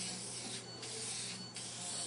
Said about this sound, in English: Then we're going to spray